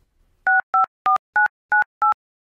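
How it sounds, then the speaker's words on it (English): Someone places a call on a phone: six evenly spaced two-tone keypad beeps sound, short and crisp, loud against otherwise silent air. "Phil phones Finn."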